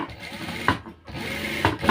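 A sewing machine runs in short bursts while stitching a trouser side pocket, with rapid mechanical needle chatter, close up, and brief pauses between runs.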